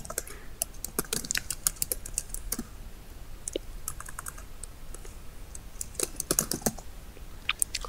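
Rapid keystrokes on a computer keyboard come in bursts with brief pauses, close and fairly quiet, while text is typed into Camtasia Studio editing software, no talking.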